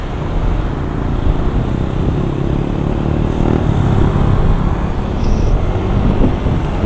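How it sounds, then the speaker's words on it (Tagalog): A mountain bike converted with a small motor runs loudly and close, its engine droning steadily with slight rises in revs, no talk over it. "Bubulin natin yung bisikleta, mountain bike na nilagyan ng motor."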